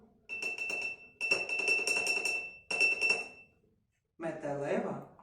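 A glass cup rings under three bursts of rapid tapping, a high clear tone sustained through each, then a voice speaks briefly.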